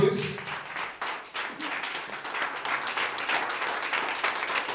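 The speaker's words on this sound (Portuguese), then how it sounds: "Dê uma salva de palmas para Jesus." A church congregation claps together for Jesus, a dense, sustained round of applause rising and holding steady, with faint voices mixed in.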